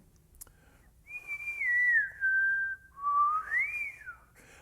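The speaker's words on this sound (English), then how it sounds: "I would probably try and whistle it," A single person whistles a slow melodic line practising a descending brass passage, the tone gliding down then rising and falling again across two clear phrases, close and alone with no talk.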